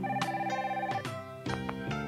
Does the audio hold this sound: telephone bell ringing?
yes